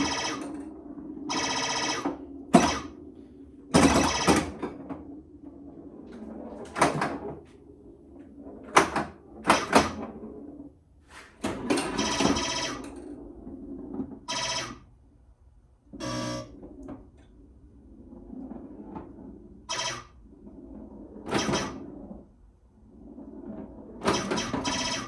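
An Atari pinball machine in an arcade warehouse plays after credits are added, giving bursts of electronic chimes, clacks and buzzing solenoid hits scattered irregularly across quieter stretches of machine hum.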